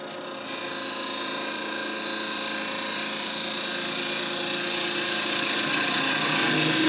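Exotic wood spins on a wood lathe as a gouge shapes it into a sphere, giving a steady whirring hiss with rising scraping tones that grow gradually louder toward the end; no talking.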